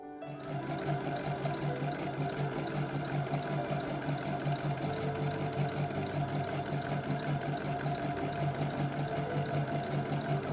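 A sewing machine runs continuously while joining crocheted granny squares together, a steady rapid mechanical whirr with a fast regular stitching rhythm, close and unbroken.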